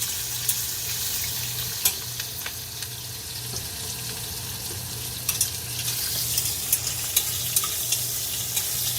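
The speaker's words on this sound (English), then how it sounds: "I'm going to add a little thyme to our mirepoix here." Thyme goes into mirepoix frying in oil, with a steady sizzle, occasional stirring scrapes and light clinks throughout, no voices.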